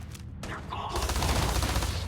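Gunfire in the video game Starfield: a dense, rapid volley of shots in a continuous burst, loud and close, with no talking.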